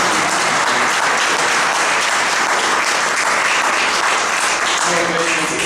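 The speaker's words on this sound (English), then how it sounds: "round of applause" Crowd applause at a craft brewing industry talk, a dense, loud wash of clapping hands that stays steady throughout, with faint voices mixed in near the end.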